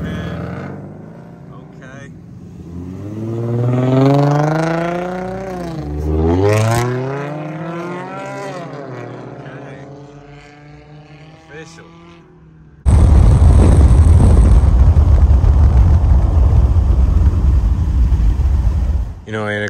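A Ford 5.0 engine at a car meet roars into a loud, sustained rev close by, cutting in abruptly after a stretch of speech and melodic sound, then holding steady at full volume.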